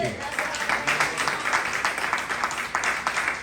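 A church congregation breaks into applause, dense sustained clapping from many hands filling the room, loud and steady, with some voices mixed in.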